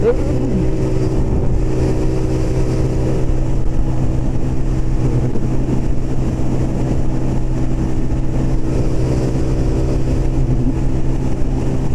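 A car engine revs steadily while being driven fast along a bumpy, windy road, its loud, continuous drone and harmonic whine filling the whole stretch, with no talk.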